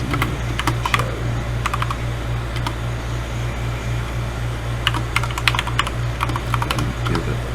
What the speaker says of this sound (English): I'll just add the password this way then. Sudo pass wd Jerry.